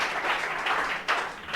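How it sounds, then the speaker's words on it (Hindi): A brief burst of applause from a classroom audience, dense hand clapping heard up close with a fresh surge near the end. "चलिए इनके लिए भी एक बार ताली बजा"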